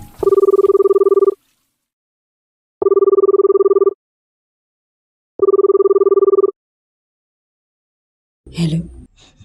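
Three identical long electronic telephone ring tones sound in a steady on-off pattern with silent gaps between, loud and clean, followed by a brief breathy voice sound at the end.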